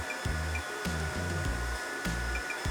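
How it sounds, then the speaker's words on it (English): Air being bled out of a SMACO portable compressor for airguns, a steady loud hissing rush of escaping air with rhythmic mechanical pulses repeating about every half second, no talk. "Then it's time to bleed the air out"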